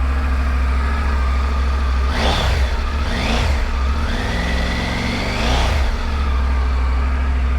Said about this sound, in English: this is the factory exhaust sound coming from the bike